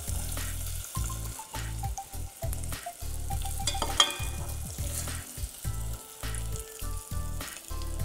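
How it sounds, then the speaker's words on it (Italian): Capers sizzle and crackle in hot oil previously used for frying bread, with intermittent stirring clatter and scraping throughout. "li faccio friggere nell'olio dove abbiamo precedentemente fritto il pane"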